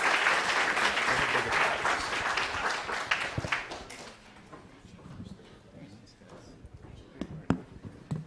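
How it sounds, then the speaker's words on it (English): A crowd at a pitch competition event applauds a team, loud and full for about four seconds before quickly fading to a few scattered claps and faint murmuring. "Can we get a round of applause for our team?"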